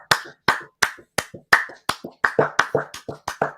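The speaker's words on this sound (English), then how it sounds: "let's have a round of applause for Charlie." Football fans applaud a goal in a Sunderland 2-0 Rochdale League One match: about a dozen close, sharp hand claps in a steady, even rhythm, with no voices.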